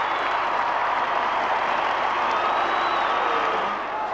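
Football crowd at a 2001 AFL match between Port Adelaide and Essendon applauding a goal kicked for Essendon, a steady wash of clapping and cheering from a large stadium audience that holds level throughout and eases slightly at the end.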